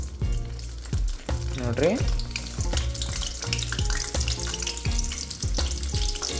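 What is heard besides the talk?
raw banana slices deep frying in oil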